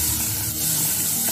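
Chopped onion sizzles in hot cooking oil in a home kitchen for bihon with sardines, a steady, dense frying hiss running unbroken throughout with no talk.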